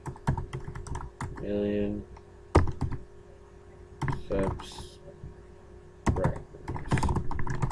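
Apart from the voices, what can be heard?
typing on a computer keyboard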